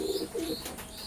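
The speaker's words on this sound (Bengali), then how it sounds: "স্ক্রিনে এখন যে কবুতর জোড়া দেখতে পাচ্ছেন এটাও টেডি 128-এর এক জোড়া কবুতর।" Teddy 128 pigeons of an imported Oman Teddy bloodline give a soft, low coo in two short throaty phrases, close by and fairly quiet, with faint chirps in the background.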